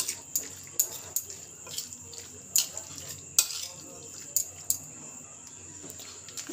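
Chicken being mixed with garlic paste and ginger paste in a bowl, with a string of sharp spoon-on-dish clinks and soft wet stirring at an irregular pace, close by and fairly quiet.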